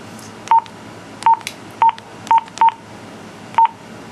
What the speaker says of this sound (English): I'm using the keypad here, just these two buttons.